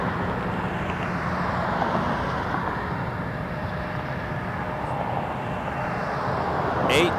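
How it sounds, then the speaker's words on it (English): A Cathay Pacific Airbus A350-1000 jet at Toronto Pearson produces a continuous engine rumble and rushing noise at moderate distance, with faint voices murmuring underneath. "There's a Cathay A350-1000"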